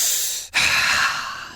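One deep human breath, a long breathy inhale, a brief pause, then a fuller sighing exhale, close and fairly loud with no talking.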